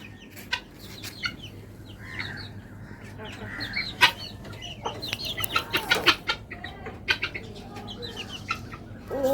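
Chickens cluck and a rooster calls in a busy close flock as they gather for food, with overlapping bursts of clucking over low background hum.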